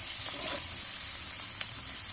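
Salted fish pieces fry lightly in a pan, giving a steady, even hiss of hot oil that carries on alone without a break.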